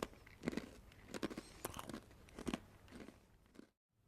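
A crunchy, salty malt-flavoured snack is bitten and chewed up close, producing a run of sharp, crackling crunches before the sound cuts to silence.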